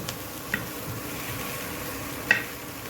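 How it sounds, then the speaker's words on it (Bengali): Vegetables with onion leaves and green chillies are stir-fried in a pan for a vegetable soup, a soft steady sizzle broken by two brief clicks of a spatula. "আমার ভাজা ভাজা হয়ে গেছে, এখন আমি এর মধ্যে জল দিয়ে দিব।"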